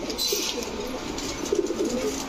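High-flyer giribaz pigeons in a loft coo in low, rolling calls close by over a steady background hum, with a few brief chirps.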